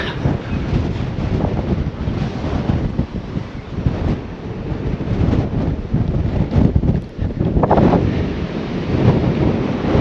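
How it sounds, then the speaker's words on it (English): Strong gusty wind on a hilltop on the Isle of Man roars and buffets continuously, a loud rushing blast with rumbling surges and no voices. "it is a little bit windy up here"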